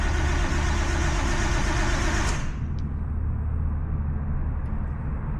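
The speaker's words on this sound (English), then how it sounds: "So I'm just going to start the car up and let it come to temp" A Nissan Skyline R32 GTST idles with a steady low engine drone, loud at first and then settling into a quieter, even idle, heard close with no talking.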